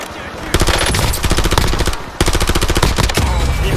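Automatic gunfire in the Call of Duty Warzone video game: loud, close rapid bursts of machine-gun fire with sharp evenly spaced shots, a brief pause, then another sustained burst.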